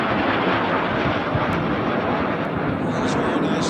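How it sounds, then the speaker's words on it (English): A Learjet 24 business jet flies overhead at an air show, producing a loud, steady, broadband jet roar that fills the whole stretch. "This is a Learjet 24 business jet."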